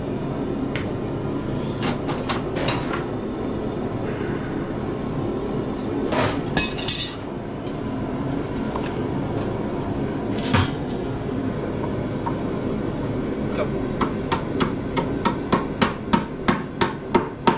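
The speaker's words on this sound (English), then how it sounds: "we're going to show y'all putting this rivet in now" Hammer blows driving a rivet into a bellows during restoration, sharp metallic strikes spaced irregularly at first, then a quick run of evenly spaced taps near the end, close and clear over a low background hum.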